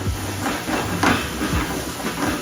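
Pork belly stir-frying in a pan for spicy jeyuk-bokkeum, cooked hot until slightly charred, giving a steady close broadband sizzle and hiss with a few brief louder spatters.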